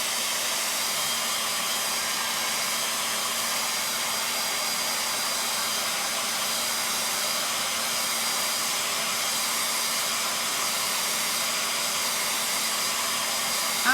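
A hair dryer on its cool setting blows steadily and loudly over a chalk transfer on a metal valentine gift piece, a constant close whooshing roar with a faint hum that holds unbroken from start to finish.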